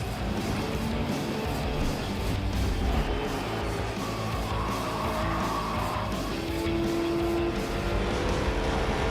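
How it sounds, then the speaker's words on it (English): Ram NASCAR race car with a Hemi V8 roaring loudly, a dense sustained engine drone with shifting pitch that holds steady for several seconds, no speech. "That's our Hemi, and it's saying, I'm back."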